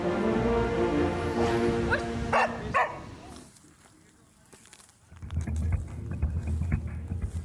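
A Belgian Malinois commando dog with an Indian NSG K9 squad barks and whimpers in short bursts up close, mixed with voices and background noise, then a quieter gap before the commotion picks up again.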